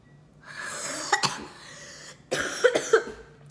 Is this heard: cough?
yes